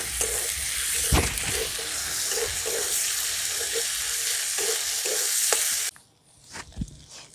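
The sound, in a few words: ginger, garlic and green chillies frying in a pan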